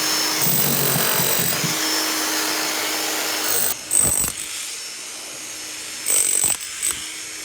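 Tool chipping away material around a fitting buried in dirt, a steady rough scraping-grinding wash broken by a few sharper knocks and thuds near the end, fairly close with no talk.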